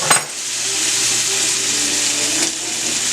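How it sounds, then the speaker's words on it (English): Butter sizzles and fries loudly in a hot pan alongside steak, a dense steady hiss with a brief clatter at the start and another small knock near the end. "So now I'm adding some butter."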